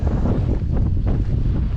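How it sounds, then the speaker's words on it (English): Strong wind buffets the microphone in a constant low roar, gusting unevenly with no other sounds standing out, on the Laugavegur hiking trail near Landmannalaugar, Iceland. "So, it's a little windy."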